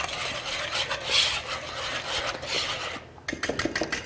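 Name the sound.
whisking dry ingredients (baking powder, soda, salt) together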